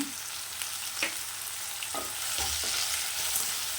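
Ground cinnamon, fennel and clove frying in oil, a soft steady sizzle with a few scrapes of a spoon stirring in the pan, moderately close and without voices.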